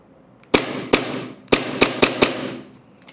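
Six sharp, loud pops from a Tokyo Marui Glock 17 Gen 3 airsoft pistol test firing without BBs after a slide return fix, spaced irregularly over about two seconds, close and alone.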